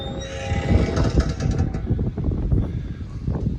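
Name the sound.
Norfolk Southern train passing on the CSX line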